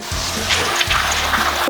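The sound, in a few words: watering in the garden bed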